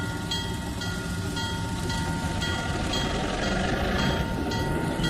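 A train rolls steadily in the Trainz 2019 simulator around a C&O rail yard, giving a continuous rumbling run with faint periodic rail clicks and a steady tonal hum, without voices.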